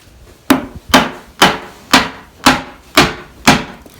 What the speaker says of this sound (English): bring your chisel all the way down it